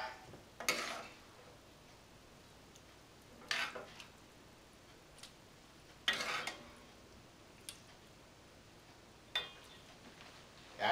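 Penne pasta being stirred through arrabbiata sauce with pecorino cheese in a pot, heard as a handful of short scraping clinks of a utensil against the metal, spaced a few seconds apart over a quiet background.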